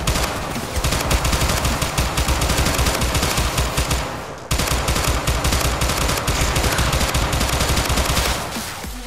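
Sustained rapid automatic gunfire from a gun in the video game Syndicate, loud and continuous for several seconds, with a brief break before the burst resumes, no talking.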